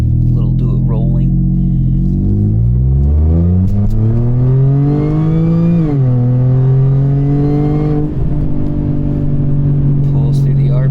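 Audi A6 after a high pressure fuel pump installation, pulling hard from a roll: loud engine tone climbs steadily through the revs, dips briefly at a shift, then rises again, with a voice talking over the drone.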